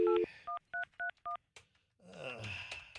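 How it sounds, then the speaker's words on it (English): Touch-tone keypad tones from a cell phone being dialed: five short, evenly spaced beeps at close range, then a brief rustle and some faint background noise. "I'm gonna dial him up."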